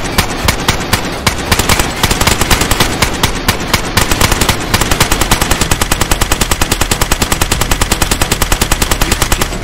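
Automatic gunfire rattles in rapid, loud bursts at a wooden base wall during a raid in the video game DayZ, building into a long, steady stream of close shots.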